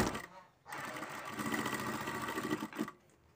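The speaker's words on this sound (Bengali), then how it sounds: "তো এখন একটু সেলাই করছি।" A sewing machine runs a steady stitching pass at home, its fast, even mechanical whirr starting abruptly, holding for about two seconds at close range and then cutting off.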